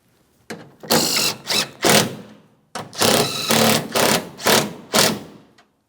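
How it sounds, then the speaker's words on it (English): A hand ratchet snugs 13 mm tailgate mounting bolts on a 2007-2014 GMC Sierra 2500 HD, giving close, loud runs of rapid clicking in two clusters split by a brief pause. "Let's go ahead and snug them up. I'm starting in the center with my 13 millimeter headed mounting bolts."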